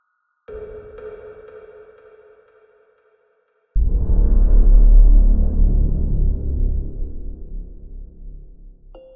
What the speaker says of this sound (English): What you're hearing is raw electromagnetic radiation data